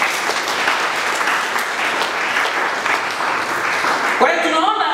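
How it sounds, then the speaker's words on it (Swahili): A church congregation claps in unison, loud and sustained, with voices mixed into the clapping. Near the end the applause thins as a voice rises over it. "Piga Yesu makofi"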